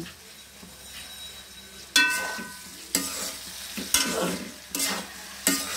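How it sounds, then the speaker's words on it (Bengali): Okra (bhindi) frying in a pan, a soft sizzle punctuated by five sharp scraping and clinking strokes of a spatula at roughly one-second intervals, with no voices. "আর এদিকে ভেন্ডি ভাজি দেখো কত সুন্দর হচ্ছে"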